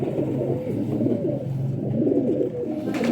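Pigeons of an old pedigree breed coo steadily and close by, a continuous layered murmur of soft, throaty calls that runs without a break.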